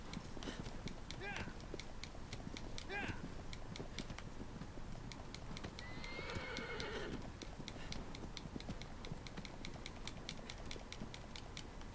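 A horse ridden across open land in Shadow of the Colossus, its hooves beating in a fast, regular clip-clop, fairly quiet, with a brief whinny partway through.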